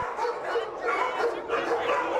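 Many dogs bark and yip together at a crowded animal shelter, a steady overlapping chorus of barks and whimpers at moderate distance with no pauses.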